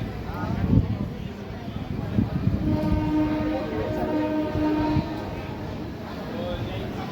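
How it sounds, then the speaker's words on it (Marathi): The Pune–Shirdi intercity express train rumbles into Ahilyanagar railway station with a steady low roar of wheels and carriages and a sustained horn tone in the middle, while a voice talks over it. "सहा वाजून 4 मिनिटाला या ठिकाणी आपली ट्रेन पोहोचलेली आहे अहिल्यानगर रेल्वे स्टेशनवर"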